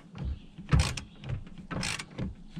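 Hand ratchet loosening seat bolts in a third-gen Dodge Ram Cummins pickup: a few short, uneven bursts of close mechanical clicking and scraping with brief gaps between strokes.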